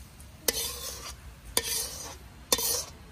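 Meat being stir-fried in a wok at a campsite, three sharp scrapes of a spatula against the pan spaced about a second apart, each followed by a short hiss of sizzling.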